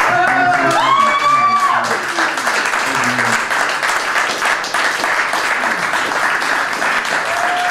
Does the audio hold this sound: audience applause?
yes